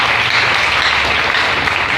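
Dense, loud applause from a church congregation, continuous clapping filling the space without pause.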